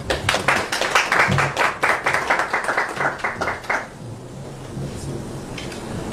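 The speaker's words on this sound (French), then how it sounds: "On accueille l'ambassadeur, on applaudit s'il vous plaît." Audience clapping to welcome an ambassador at a Brussels press event: a burst of many hands, fairly close and loud, fading after about four seconds into room murmur.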